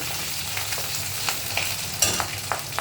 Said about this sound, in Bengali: ভালো করে এটাকে তেলের সাথে ভেজে নিতে হবে অনেক তেল বেরিয়েছে